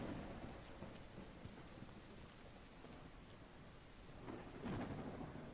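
Steady rain pours in a video game, a dense hiss of drops with a low rumble of thunder swelling toward the end, heard alone without voices.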